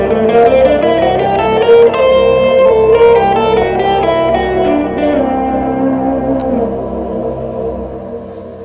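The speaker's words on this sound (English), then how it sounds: "So the C Lydian dominant scale looks and sounds like this." A piano plays the C Lydian dominant scale with reverberant sustained notes running in sequence, loud and alone, ringing out and slowly fading at the end.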